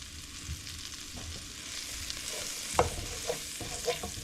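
Pork chop and apples frying in a pan give a steady close sizzle, with a few louder stirring scrapes toward the end.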